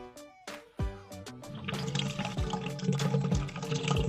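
Coca-Cola poured from a freshly opened container into a jar: a steady liquid gurgle and splash that builds and thickens as the jar fills, with faint knocks near the start.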